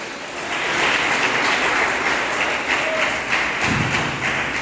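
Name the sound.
applause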